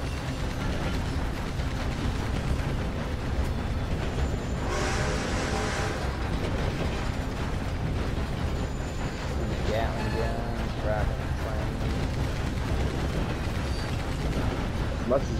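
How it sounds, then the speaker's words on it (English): Gunshots and blasts from a firefight in Red Dead Redemption 2 Online, near Western-style gunfire under a voice, with a burst of louder noise partway through. "Oh, I'm shooting at somebody for it."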